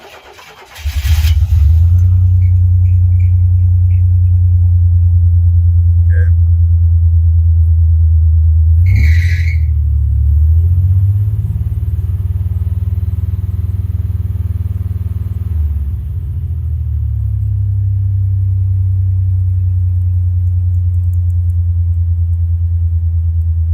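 A Buick Grand National under rebuild fires up and runs with a loud, steady low drone; the pitch sags and shifts as it drops into drive, then settles back to an even idle.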